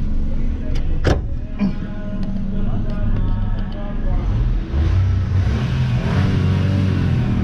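A Nissan March 1.2 with a remapped ECU and 8000 RPM open limiter, heard from inside the car as the engine drones and revs under load, with people talking over it.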